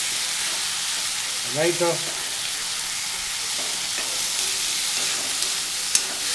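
Green chillies fry in oil for kara kuzhambu, a steady close sizzle and hiss throughout, with a brief voice speaking over it early on and a faint clink near the end.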